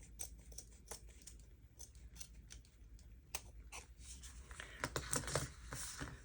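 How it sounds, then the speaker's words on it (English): Quiet, repeated snips and crisp slicing as dull scissors cut through paper, growing a little louder and busier toward the end. "Let me get my bigger scissors"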